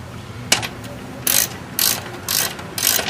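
A ratchet tightens the 12mm valve cover bolts on a Suzuki GS500 motorcycle, four quick bursts of close, rapid pawl clicking over a steady low background hum.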